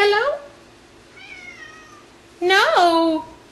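A house cat meows to be let in, two separate cries: a short one at the start and a longer, louder drawn-out meow near the end, with a faint softer call between them, close by and alone.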